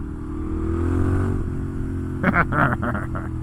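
A Moto Guzzi Griso V-twin motorcycle with the exhaust baffle removed rumbles steadily at idle, then a few sharper, choppy bursts follow near the end, close and fairly loud.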